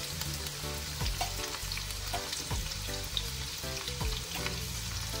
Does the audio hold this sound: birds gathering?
no